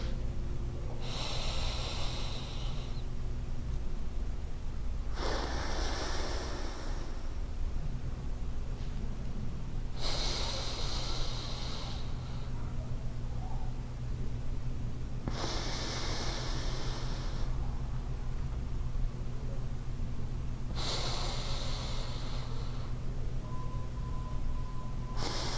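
Alternate nostril breathing exercise during a meditation class: five long, loud breathy nasal inhales and exhales repeat at steady intervals of about five seconds, close to the mic, with no talking over a constant low hum.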